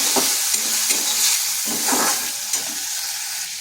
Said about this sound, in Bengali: এই মশলাটা একটু কষে নিচ্ছি।